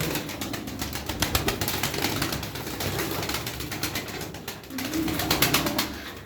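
A flock of pigeons coos continuously up close, with bursts of wing flapping and rustling mixed into the dense calling.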